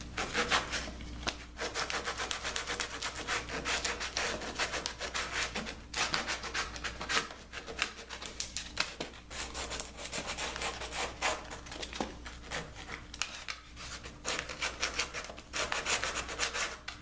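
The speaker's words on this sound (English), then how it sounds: "Get in there with a little piece of sandpaper and take the rough edges off it." Sandpaper rubs back and forth against the rough wooden edges of a dart board cabinet, a fast, continuous scratchy rasp held close at moderate level with brief pauses.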